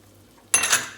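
Chicken hits a hot pan for sautéing, a sudden close clatter followed by a bright hiss that fades within a second after near silence, with no talk.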